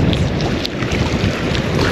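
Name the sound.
wind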